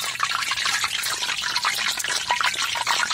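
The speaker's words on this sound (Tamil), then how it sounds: "முந்திரி பருப்பை வந்து நல்லா எண்ணெயில் விட்டு பொரிச்சிக்கலாம்" Cashew nuts fry in hot oil for a sweet laddu, giving a steady, close, crackling sizzle with many fine pops and bubbling bursts throughout and no talk.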